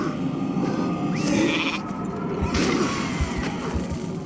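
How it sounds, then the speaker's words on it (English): A sheep bleats from a polymorph spell in the World of Warcraft Classic hardcore game inside Ragefire Chasm, a brief wavering bleat heard among steady game noise and scattered impacts. "Oh, did you just break the sheep?"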